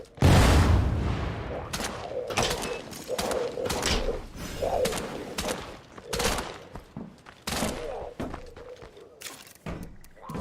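Rapid bursts of video game gunfire from zombie shooting, with repeated sharp shots and thuds in quick clusters across the whole stretch, heard under background chatter.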